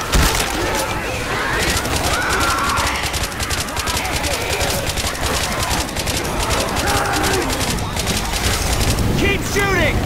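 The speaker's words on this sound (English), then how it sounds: "Shoot the damn tank." Dense, continuous gunfire fills the whole stretch as survivors pour shots into the Tank during a hard-rain survival round of Left 4 Dead 2, loud and rapid with voices talking over it.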